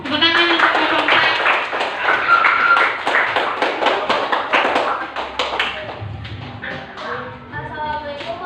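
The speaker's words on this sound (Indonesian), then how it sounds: "Ayo tepuk tangan untuk kelompok 4." A classroom full of people claps steadily for several seconds, the applause thinning out toward the end.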